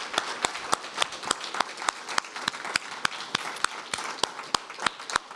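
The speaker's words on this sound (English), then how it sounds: "Can we have another big round of applause for Pete Hocking and Samyak Shertok?" An audience applauds after a faculty presentation, steady clapping from a modest crowd with a few individual sharp claps standing out, moderately distant and continuous throughout.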